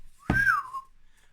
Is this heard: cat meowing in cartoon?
no